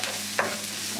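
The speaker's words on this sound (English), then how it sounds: "Give it a quick stir." Quick stir of masala cauliflower stir-fry in a pan with fresh cilantro, a single short scrape of the spatula over a soft steady sizzle.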